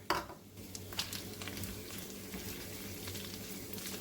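Hamburger meat with chopped vegetables fries in a pan, giving a soft, steady sizzle with a few faint clinks and stirring noises and no talking.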